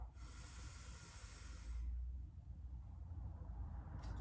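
A steady nasal inhale, long and breathy, lasts nearly two seconds and is followed by a held, quieter stretch, heard close up during a standing mobility workout.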